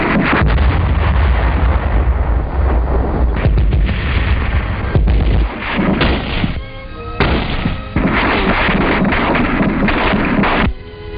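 Artillery fire on Okinawa in 1945, recorded for a wartime newsreel: heavy booms and bursts of gunfire follow one another loudly for several seconds, with no talking over them.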